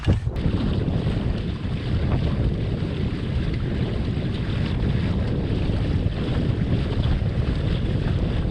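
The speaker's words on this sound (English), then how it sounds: "if we could have wind like this would be perfect." Steady, rushing wind blows over a sailboat at sea near Tenants Harbor, buffeting the microphone with a constant loud roar and faint water wash beneath, with no talking.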